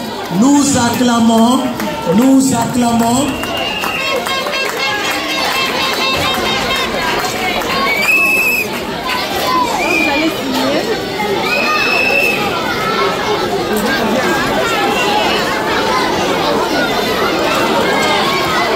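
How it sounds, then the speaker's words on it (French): Crowd cheering at a school year-end results proclamation as the director approaches, a broad wash of voices and excited hubbub with shouts and whoops rising over a continuous babble of people talking. "Alors qu'il s'approche, nous acclamons."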